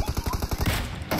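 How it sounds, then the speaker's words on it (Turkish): Gunfire from a K98 rifle in the battle-royale game PUBG, a rapid string of sharp cracks over about half a second, then a denser wash of noise. "Lan K98'de sıkıyorum."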